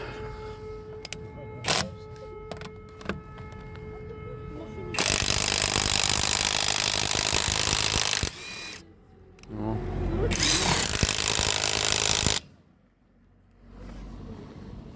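A cordless impact wrench running on a repaired Chinese battery pack gives two loud, sustained bursts of buzzing and hammering, each lasting a few seconds, with a short pause between them and quieter handling noises before the first.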